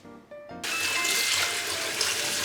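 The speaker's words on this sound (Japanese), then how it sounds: "でやはりしっかりと丁寧に洗っていただいてですね、土とかを、取っていただければと思います" Tap water suddenly turned on full, rushing steadily into a sink as komatsuna greens are rinsed clean of soil, close and loud after a brief quiet start.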